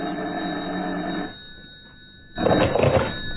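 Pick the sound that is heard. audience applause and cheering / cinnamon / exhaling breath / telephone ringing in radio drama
telephone ringing in radio drama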